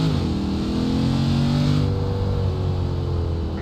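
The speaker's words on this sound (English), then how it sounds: "I like how the transmission downshifts." A 381-horsepower car engine revs steadily and loudly up close as the transmission downshifts, the pitch sweeping and settling with no speech over it.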